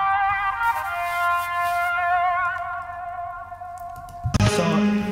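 A vintage-toned synth lead from a Cymatics sample pack for a remix plays sustained, wavering notes with echo and distortion, ending in a louder burst of layered texture, with no voices.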